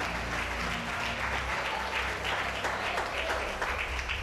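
A church congregation applauds together at a sermon, steady dense clapping from many hands filling the room without a break, with a faint low hum and no distinct speech.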